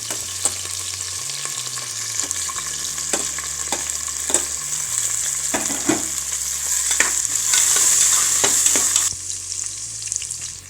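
Onion and green chili sautéing in oil for Indian mint (pudina) rice, a steady close sizzle with scattered clicks of a spoon stirring against the pan throughout.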